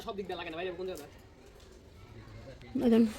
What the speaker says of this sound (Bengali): কবুতর একটা